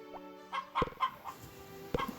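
Chickens cluck inside a coop in the Harvest Moon farming video game, a few short synthesized clucks popping up in quick succession over a soft tonal game soundtrack.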